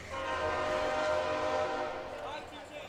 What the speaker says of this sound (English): Hear that train.